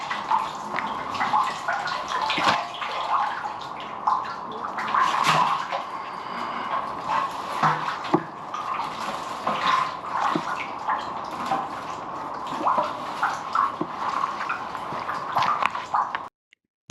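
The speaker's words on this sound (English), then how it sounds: "I started by jetting downstream to try and get rid of the water in this chamber." Steady hiss and spatter of a high-pressure water jet working inside a flooded drain chamber at a school, with irregular knocks and splashes over a constant rushing tone.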